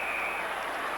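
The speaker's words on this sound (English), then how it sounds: "Sorry about the crowd noise." Stadium crowd at an Australian football preliminary final between Hawthorn and Fitzroy in 1986, a steady dense roar heard alone for about a second.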